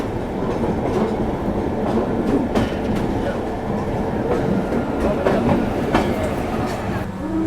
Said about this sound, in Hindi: एकदम सुबह 6 बजे के आसपास हमारी ट्रेन यहाँ पे उज्जैन रेलवे स्टेशन पहुँच रही है